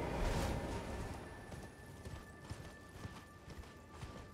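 Horse hooves clip-clop in Elden Ring: a steady, quick trot of muffled hoofbeats under a soft ambient game wash, with no talking.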